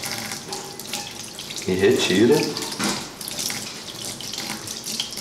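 Tap water runs steadily into a sink, rinsing excess cold-oxidation product off a metal pipe, with a louder splashing stretch in the middle and someone speaking Portuguese briefly.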